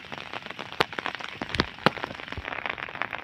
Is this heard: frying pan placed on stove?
no